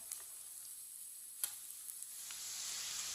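Chicken kulfi kabab frying in oil, giving a steady, faint, close hiss of sizzling with a few small pops and crackles and no voices.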